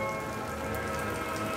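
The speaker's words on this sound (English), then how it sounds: "we got caught in a big, massive rain shower" Heavy rain pours down in a steady, loud, unbroken hiss outdoors near a beach-club boardwalk at Disney in Orlando.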